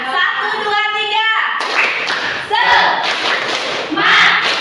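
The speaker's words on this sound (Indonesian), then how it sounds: "kita bareng-bareng tepuk semangat ya" A school class (SMP Negeri 2 Cimarga) doing tepuk semangat, a rhythmic spirit-clapping chant. Hands clap loudly together in a patterned beat, mixed with children's voices chanting, close and lively.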